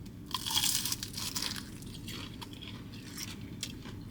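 A crispy fried chicken drumstick crunches loudly under a close bite, followed by a few smaller crackles as chewing continues against low background room noise.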